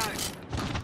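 Rapid gunfire from the video game Modern Warfare crackles in a brief dense burst of overlapping shots with low thumps, loud and close, while a player's voice is partly mixed in.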